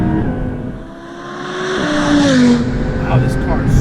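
Supercharged 800-horsepower Audi R8 engine revving and pulling hard, a loud rising roar that climbs in pitch through the middle and keeps building, heard from inside the car.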